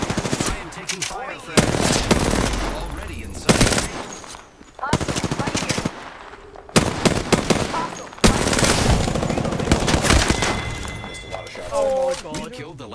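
Apex Legends firefight: loud bursts of automatic gunfire come in several separated volleys with short pauses between them, some crackling and shattering impacts, while players talk over the action.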